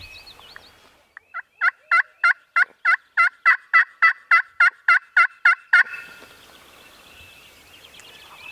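A wild turkey gobbles in a rapid burst of about fifteen evenly spaced, loud calls, then falls quiet amid faint background birdsong in late-season Iowa.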